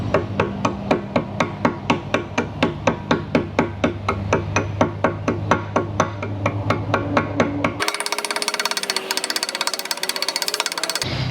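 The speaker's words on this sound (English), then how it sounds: "show you how I chip off the corrosion from that. I just pretty much take a chisel by hand." A hand chisel is struck repeatedly to chip corrosion off a car's thermostat housing, giving a steady series of sharp metallic hammer blows about two per second, followed by a harsher, denser scraping rattle.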